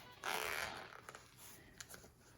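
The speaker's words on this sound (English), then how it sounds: "So you get a zipper on the front." A zipper on the front of a keyboard case opens in one brief, close rasping pull, followed by a few faint clicks and rustles.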